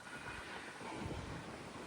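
A Sri Lanka Railways diesel locomotive approaches on the coastal line, heard as a faint, distant, steady rumble under wind and open-air hiss, with no voices.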